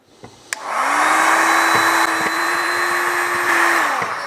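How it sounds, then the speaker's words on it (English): A heat gun starts after a short click, giving a steady, loud blowing whir that runs evenly for several seconds, with a faint hum underneath, then cuts off. "I will use my heat gun and heat it a little bit"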